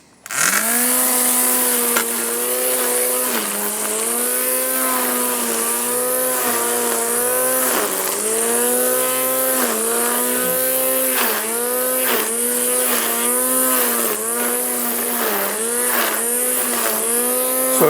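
A Parkside cordless string trimmer whines loudly and continuously, its pitch dipping and rising repeatedly as the line cuts through tall grass close by.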